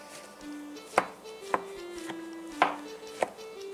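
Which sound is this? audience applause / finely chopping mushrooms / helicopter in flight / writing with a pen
finely chopping mushrooms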